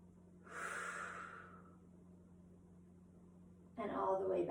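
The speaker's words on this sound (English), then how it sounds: "Exhale up" A person doing a heel raise exercise exhales, a soft breathy rush of air near the microphone lasting about a second, followed by quiet and then a louder burst of breath or voice at the end.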